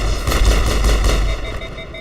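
Sustained automatic gunfire rattles loudly in the Mass Effect video game, a dense, continuous burst that tapers off toward the end.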